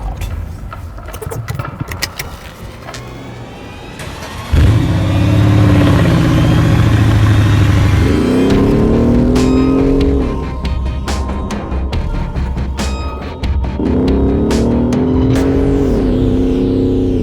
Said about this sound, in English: It has a very large biturbo V8 under the bonnet, which is very thirsty, but it's also loud